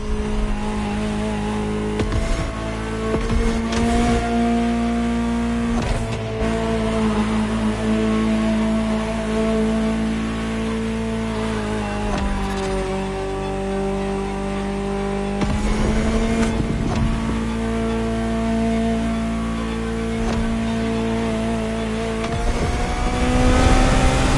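A Ferrari supercar in The Crew Motorfest video game, its engine droning loud and close through sustained driving, with pitch climbing and dropping across gear shifts and revs.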